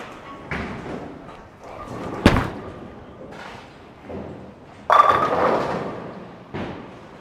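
A Storm Absolute bowling ball with a 4.5-inch pin layout rolls down the lane and strikes the pins, giving a sharp loud crash midway and a second burst of pin clatter after it over lane rumble.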